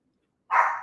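A single dog bark or yip in a home, starting abruptly after near silence and ringing out loud and close for under half a second.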